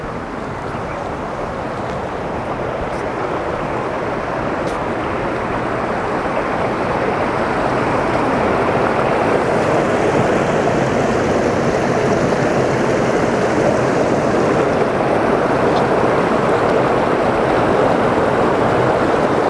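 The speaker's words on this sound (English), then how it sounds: "Listen to that waterfall, Jane." A waterfall at the Royal Botanic Garden Edinburgh rushes in a steady, full roar of falling water that goes on without a break and grows slightly louder toward the end.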